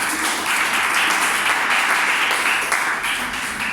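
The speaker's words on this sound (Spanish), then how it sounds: "Denle un aplauso a la Biblia" A church audience applauds in a steady, dense wash of clapping that holds at an even, loud level throughout with no pauses.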